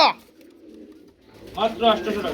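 Low, soft pigeon cooing murmurs close by, then a person starts talking over it.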